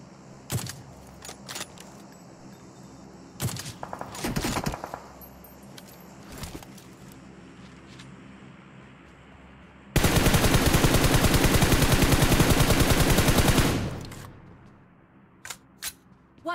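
Automatic gunfire in the PUBG Mobile squads video game. Scattered single shots snap out, then a dense, loud sustained burst rattles for about four seconds, followed by a few more isolated cracks.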